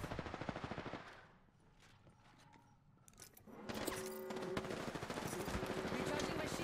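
Bursts of automatic gunfire in Apex Legends during a cave fight: a loud rapid volley, a quieter lull with scattered shots, then heavy sustained firing resumes close by.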